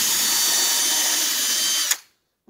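A cordless power drill driving a screw into 2x4 wood while building a raised garden bed, one sustained whine that winds up near and loud, then cuts off abruptly into silence.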